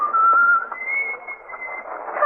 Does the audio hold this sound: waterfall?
no